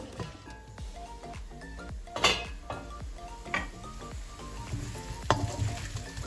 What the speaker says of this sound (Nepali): अब म यसलाई एकैछिन छोप्दै भुट्दै चलाउँदै गर्छु